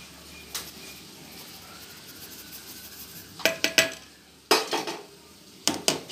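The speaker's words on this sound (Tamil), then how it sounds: "இப்போ நல்லா கட்டி இல்லாமல் கிளறி விட்டுக்கலாம்" A spoon scrapes and clinks against a pot while semolina pudding with almond drink mix is stirred, quiet at first, then several sharp metallic knocks in quick clusters near the end.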